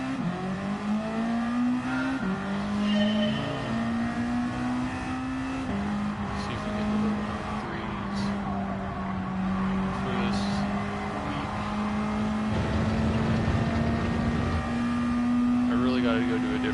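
A tuned car in a racing video game, engine droning and shifting pitch as it accelerates and holds speed, steady and fairly loud across the stretch, with a voice talking over it at times.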